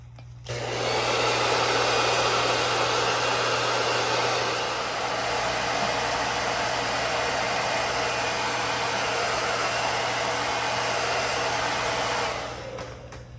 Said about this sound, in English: begin with a blow dryer or like a heat gun if you have one